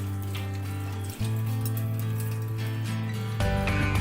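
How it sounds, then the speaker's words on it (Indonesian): Tap water running into a sink while a microscope slide is washed with soap and a brush, a steady close hiss and gurgle that shifts slightly in flow partway through. "kaca dibersihkan dengan sabun dan sikat, akan lebih baik lagi jika dilakukan pada air mengalir"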